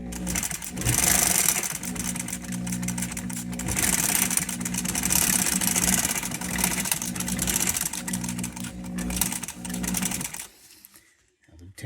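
A Juki LU-1508NU industrial walking-foot sewing machine runs steadily for about ten seconds, a loud, close, rapid mechanical chatter and hum that stops abruptly near the end.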